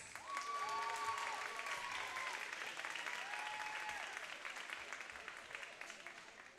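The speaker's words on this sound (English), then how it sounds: "Please give Karis a round of applause." Crowd in a school gym applauds for a senior basketball player on senior night, steady clapping and cheers with a few squeaks from the court, gradually tapering off.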